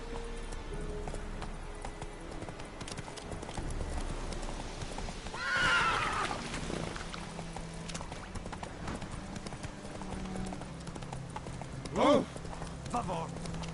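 Horse hooves trotting in The Witcher video game give a steady clip-clop under ambient game sound, with a brief whinny later and a spoken voice over the top.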